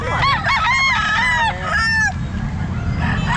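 Several roosters crow loudly one after another at a poultry and pet market in Calumpit, Philippines, with clucking fowl and a steady hum of background noise around them.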